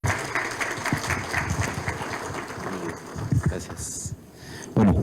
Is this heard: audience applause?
yes